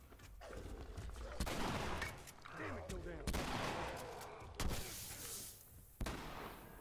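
Gunshots ring out in the video game The Last of Us, several sharp bursts spaced a second or so apart over a busy, rumbling game soundscape, fairly quiet overall.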